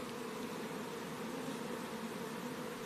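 A swarm of honey bees flies into an open hive at an apiary. A dense, steady buzzing hum holds close and even throughout, with no voices.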